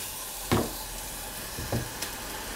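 Grated onion softening in melted butter in a hot pan gives a faint, steady sizzle, with a couple of soft knocks from stirring.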